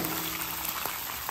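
Bacon strips frying on a flat-top griddle, giving a steady, fine crackling sizzle throughout with small pops, close by and fairly quiet, with no talking.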